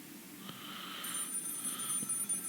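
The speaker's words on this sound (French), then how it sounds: "le téléphone qui sonne, le fameux" A telephone rings inside the horror video game Maid of Sker, heard as faint repeated electronic ring tones in short bursts, quiet against a low ambient background.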